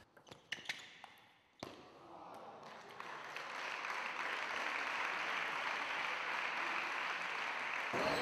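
Crowd at a national table tennis tournament final in Noisy-le-Grand breaks into applause after a few sharp isolated claps, swelling into sustained, dense clapping that carries on to the end.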